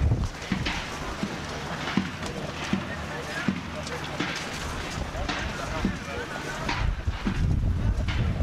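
Strong wind gusts buffet the microphone outdoors at an oil wrestling event, making loud rumbling blasts and rushing noise, while an announcer talks over it and faint crowd sounds sit underneath.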